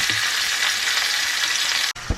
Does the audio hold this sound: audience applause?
no